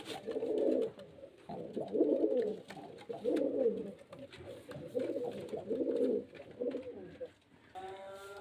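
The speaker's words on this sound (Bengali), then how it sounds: "খুব ভালো ভালো কোয়ালিটির পায়রা আছে" Pigeons coo close by in a steady rhythm of low, throaty bursts, about six in a row, with faint chirps and other noises in the background.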